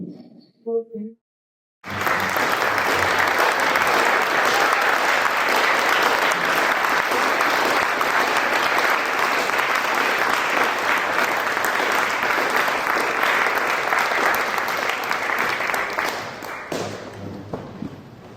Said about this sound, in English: I'm going to get everyone to stand up and give you another round of applause.